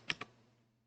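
Two quick, crisp keystrokes tap on a computer keyboard, close and quiet, with a faint steady hum underneath and no voices.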